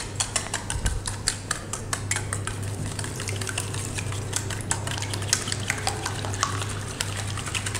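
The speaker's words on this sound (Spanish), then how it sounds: "los vamos a batir" A mixture being whisked in a bowl for a crobudding, with rapid, evenly repeated clicking strokes against the bowl over a low steady hum, close and continuous, with no voices.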